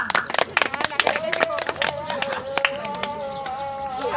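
An audience applauds a speaker at a discussion and break-the-fast gathering, with scattered claps rising over a continuous voice talking throughout.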